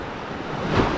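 Ocean waves wash onto the beach at Gili Air off Lombok, a brief, steady surf hiss that swells slightly toward the end, with some wind noise and no voices.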